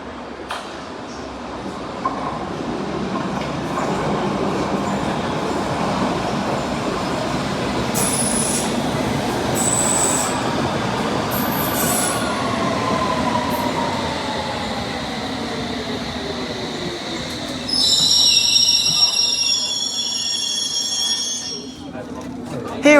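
A London Underground 1938 stock train pulls out of Paddington on the Circle and Hammersmith and City line, a steady loud rumble of wheels and motors with rising whine and a burst of high squealing near the end.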